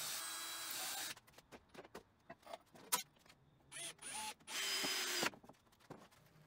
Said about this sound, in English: Now I'm pre-drilling before screwing in these longer screws in the legs here.